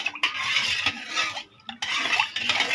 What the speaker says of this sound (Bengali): এই তো আমি ট্যাংটাকে গুলাই নিলাম